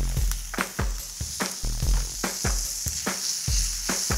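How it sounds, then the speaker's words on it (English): Diced yellow and red tomatoes hit a hot frying pan with onion, garlic, peppers and corn, sizzling steadily with repeated sharp bursts of frying hiss and stirring scrapes, close and clear with no talking. "To this, I'm gonna add a little diced tomato now."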